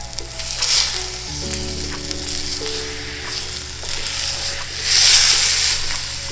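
Chuck roast searing on high heat in a hot pan hisses loudly and continuously, with a low tonal hum beneath and the sizzle swelling louder toward the end.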